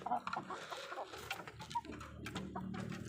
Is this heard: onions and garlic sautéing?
no